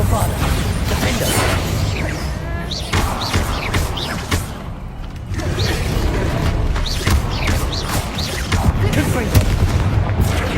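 Confringo fire spells blast repeatedly during a Hogwarts Legacy battle, a string of booming, thudding explosions layered over continuous rumbling combat noise with no pause.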